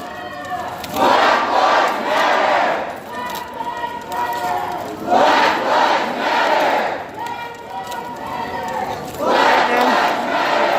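A large Black Lives Matter protest crowd marching through a Springfield street chants in loud, rhythmic waves, with shouted calls rising and falling several times and voices throughout.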